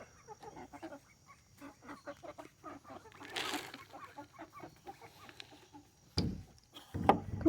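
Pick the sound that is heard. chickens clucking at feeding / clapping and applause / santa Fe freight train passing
chickens clucking at feeding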